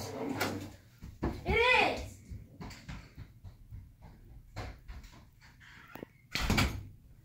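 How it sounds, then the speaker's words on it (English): A door swings open and shut, apparently pushed by wind, giving a few short creaks and knocks scattered among a person talking nearby. "I think the door keeps on opening. I hear it. The wind is pushing it."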